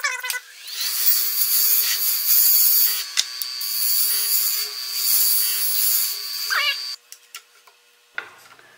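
A wood lathe turning cherry with a sharp gouge gives a steady, close scraping hiss as the tool cuts shavings, broken by brief pauses and tool repositioning, with no talk.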